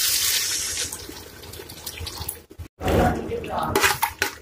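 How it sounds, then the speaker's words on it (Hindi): A cup of water is poured into fried masala for egg curry, giving a loud rushing splash that stops briefly and then resumes with bubbling and sizzling. "अब हम इसमें थोड़ा पानी डाल देंगे"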